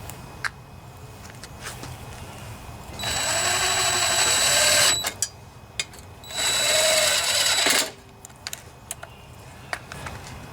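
A power drill whirs in two bursts of a couple of seconds each, driving bolts on a Briggs & Stratton 163cc lawnmower engine, with small clicks and taps in the quieter gaps between.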